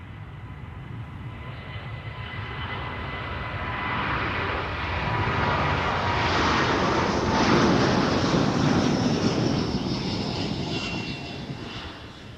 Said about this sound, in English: the A330-900, 2-year-old Delta Airlines aircraft. We will be spooling up now.